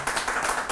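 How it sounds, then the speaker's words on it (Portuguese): A short burst of dense hand clapping greets guest Duda Ferreira, a businesswoman, at an intimate talk event, steady and close, with no voices over it. "Aplausos para a Duda."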